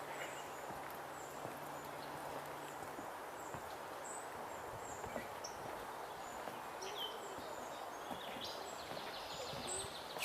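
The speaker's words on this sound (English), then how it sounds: "Swamp sparrow." Swamp sparrow singing outdoors, with faint, high trills and chirps repeating across the stretch over soft rustling and footstep-like thuds from nearby movement.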